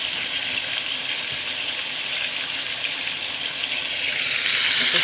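Chicken adobo frying in a pan, a loud, steady, close sizzle with a watery, crackling hiss that holds throughout and grows slightly at the end.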